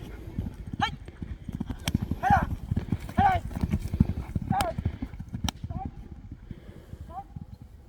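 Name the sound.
racehorse galloping, hooves clip-clopping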